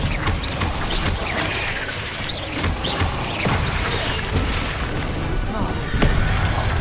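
A Confringo blasting spell in the video game Hogwarts Legacy sets off repeated heavy booms and crashes, layered over continuous combat noise with voices calling out throughout.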